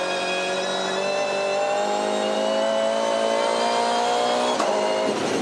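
A Volvo V8 Supercar engine at race pace on the Tasmania circuit, a loud sustained mid-pitched roar with rising harmonics as it accelerates, briefly shifting near the end, no voices over it.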